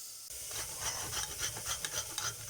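Carrot rubbed against a grater in quick rasping strokes, a steady rhythmic scraping of about two strokes per second, close and moderately quiet.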